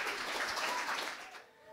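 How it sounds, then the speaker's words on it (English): A comedy club audience applauds, a dense wash of clapping that holds steady and then thins and fades toward the end, fairly soft and distant. "Right, we're going to start clapping and cheering again,"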